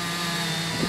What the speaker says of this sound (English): the roar of machines came this time from the adjoining woodland, as chainsaws began to cut new pathways into the densely packed trees